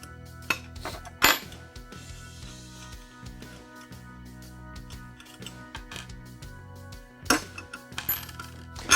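Half-inch wrenches loosen bolts on the brackets of a metal arm assembly from a Ryonet Silverpress screen-printing press. Metal clinks and taps sound close by, with ratcheting clicks and clanks scattered over several seconds.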